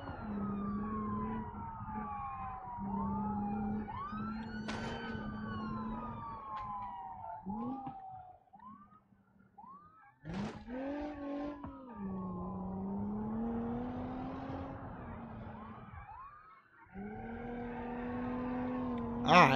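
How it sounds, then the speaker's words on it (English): Police car siren in BeamNG.drive wailing in repeated sweeping cycles, loud and close, with brief dropouts and sharp crash-like bursts among engine noise. "I didn't let that police car get in front of me."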